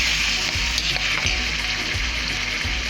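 Chicken pieces frying in a pan for nihari, a steady broadband sizzle close up with occasional low thumps of stirring throughout, no voices.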